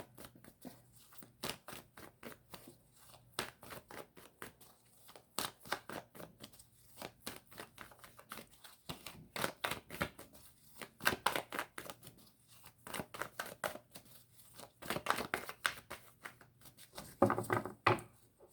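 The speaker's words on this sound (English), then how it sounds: "I pretty much already pre-shuffle before each reading" Tarot cards being shuffled before a reading: quiet, close riffling and slapping bursts in irregular clusters, with brief pauses between rounds and no talking.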